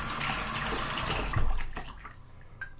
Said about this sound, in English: put some hot water in a bowl